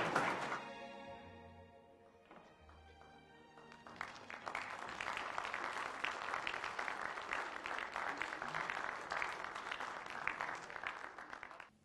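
An audience at a Swedish sports federation centenary event breaks into applause after a tonal passage, building into a sustained, fairly loud wash of many hands clapping that carries on steadily until near the end.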